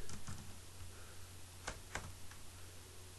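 A page title is typed on a computer keyboard: a few scattered, quiet key clicks over a low background hum.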